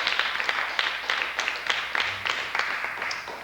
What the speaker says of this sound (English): Please give Chris a big round of applause